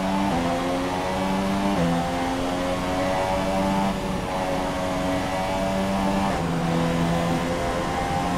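A Formula 1 race car engine in F1 2017 at the Azerbaijan Grand Prix, a loud steady high-revving whine with stepped pitch changes at gear shifts, continuous and close.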